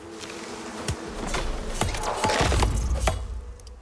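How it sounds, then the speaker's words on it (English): A beehive in the survival game Icarus gives off a dense, continuous insect buzz, close and fairly loud, with scattered clicks and thuds of in-game movement on top. "I hear a beehive."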